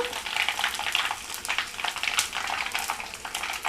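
Dried red chilies fry in a pan with oil for a mango and red chili pickle, giving a soft, close, steady sizzle and crackle with light stirring pulses.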